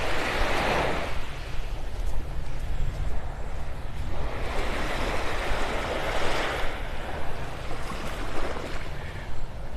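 Steady roar of ocean surf washing onto a beach in the morning, broad and continuous with swells rising and falling, no voices.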